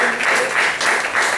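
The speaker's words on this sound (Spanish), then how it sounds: "Así que denle otro aplauso al Señor" A church congregation at a worship service applauds, a brief, dense, loud wash of many hands clapping together in a large room, pulsing slightly in rhythm.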